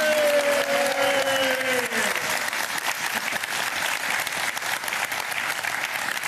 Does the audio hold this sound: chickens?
no